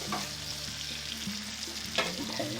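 Chicken sizzles and spits steadily in a hot frying pan, with a few clattering knocks and scrapes as it is flipped partway through; close and continuous, without talk.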